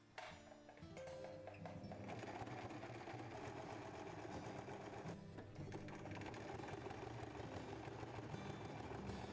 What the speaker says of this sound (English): And that way I can sew along the seam.